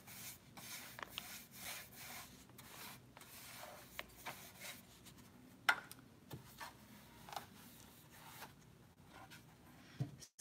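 Wax being rubbed by hand onto the inside of a small galvanized metal tray, producing quiet, close, irregular scrubbing and rubbing strokes with occasional light taps of metal.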